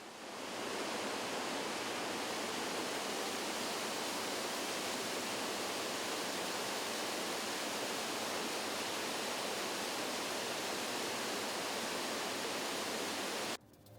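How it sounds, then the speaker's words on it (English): Loud, steady rush of Himalayan streams and waterfalls tumbling, a broad continuous roar of falling water that holds unchanged for the whole stretch before cutting off at the end. "we came across the most sensational streams and waterfalls"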